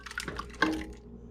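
Frittata egg mixture with Parmesan poured into a loaf pan, a short liquid splash and drip close by with a brief louder pour in the middle, no talking.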